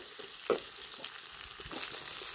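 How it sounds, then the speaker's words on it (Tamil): Finely chopped onions sautéing in sesame oil for chana kurma, a low steady frying hiss with a stir and a couple of soft scrapes, growing a little louder toward the end. "வெங்காயம் வந்து பார்த்தீங்கன்னா நல்லா வதங்கட்டும்"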